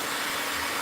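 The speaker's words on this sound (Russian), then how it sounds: "Взяла прядь, направила фен" Hair dryer blowing steadily on a strand of hair during volume styling, a close, constant broadband airflow roar with no talk over it.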